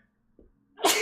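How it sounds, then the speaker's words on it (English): A single loud sneeze bursts out near the end, preceded by a faint intake of breath and near silence, close to the microphone. "I'm gonna sneeze now."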